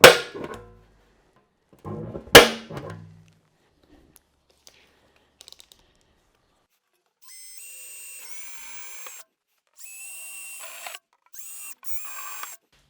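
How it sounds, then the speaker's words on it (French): A center punch is tapped against a car body panel in a couple of sharp metallic clicks and clangs, followed by brief whirring bursts from a small power tool, all close and isolated with quiet gaps between. "on va utiliser un pointeau."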